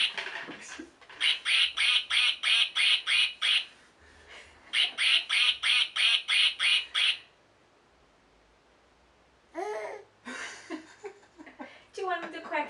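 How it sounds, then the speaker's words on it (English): Pressed toy duck gives out two long runs of quick, even, squeaky quacks, close and loud, followed by a pause and a child's babbling with adult talk. "Do you want him to quack again?"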